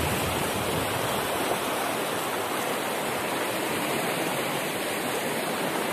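A wide river running high after heavy rain, a loud, even rush of water that holds steady throughout with no other sounds.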